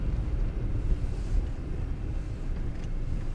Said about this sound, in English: Still a bit blustery today, to be honest, but nothing like it has been.